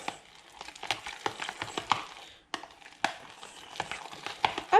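Italian cheese being stirred into homemade mashed potatoes, a run of soft irregular scrapes and knocks from a utensil in the pot, close by and fairly quiet, with a brief pause midway.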